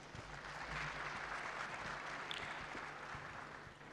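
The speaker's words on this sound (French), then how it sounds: "On peut l'applaudir." Applause from a conference audience at an economic forum on regional integration, a soft, fairly distant patter of clapping that stays steady throughout with low room hum beneath.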